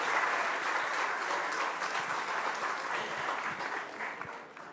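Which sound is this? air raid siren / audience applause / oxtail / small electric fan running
audience applause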